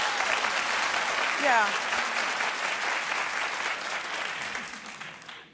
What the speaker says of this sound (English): Clap if you agree with me that you don't like that show.